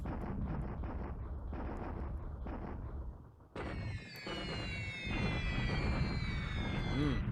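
Bombing explosions in the World War II Pacific strategy game War in the Pacific, a run of booming blasts followed by a sudden bright crackling burst with a falling, whistling tone.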